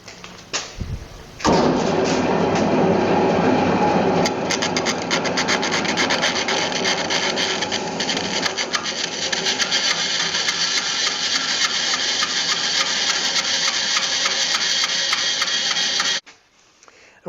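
Cutting a notch into a wooden hammer handle: a loud, continuous rasping and scraping that starts abruptly after a brief pause and runs steadily for about fifteen seconds before cutting off, with no voices.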